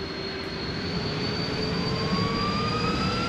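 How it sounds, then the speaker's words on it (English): Boeing 747 jet engines in a flight simulator spooling from idle up to full power, a steady loud roar with rising whining tones climbing in pitch over a few seconds, no voices. "Engine spool to full power"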